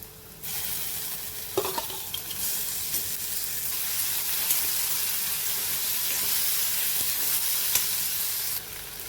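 Onions sautéing in a pan give a loud, continuous sizzle with occasional stirring clinks, close up and unbroken for several seconds without any voices.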